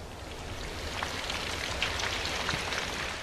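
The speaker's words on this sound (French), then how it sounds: "En fin d'après-midi, les températures baissent et la pluie se met à tomber." Steady late-afternoon rain falls in the Serengeti savanna in April, a dense, even hiss of drops with no voices.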